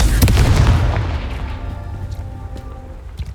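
A Confringo spell explosion in the Hogwarts Legacy video game, one loud booming blast with crackling debris that decays into a fading rumble over a few seconds.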